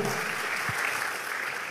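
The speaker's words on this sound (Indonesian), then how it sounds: "Tepuk tangan bagi Tuhan." A church congregation claps together in continuous, even applause that fills the room throughout.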